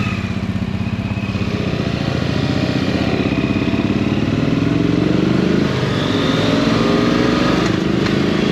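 A motorcycle engine runs close and loud at a steady idle with a constant throbbing rumble and slight rising revs, on an outing in the Adirondacks, with no talk over it.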